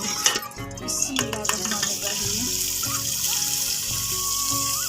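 Onions go into hot ghee in a village kitchen, bringing steady close sizzling and frying with a few clinks and scrapes of stirring early on, and no talk.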